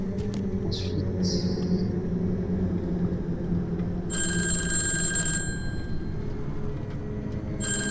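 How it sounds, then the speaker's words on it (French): A telephone rings in a French horror video game, its bright bell tone bursting in two spaced rings over a steady low rumble of game ambience, with no talking. "Attention, il y a téléphone qui chante."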